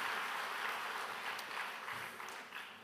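Sustained applause from a congregation for the Suwon Bundang united choir at a church summer camp evening service, a dense, steady wash of many hands clapping at moderate distance that tapers slightly toward the end.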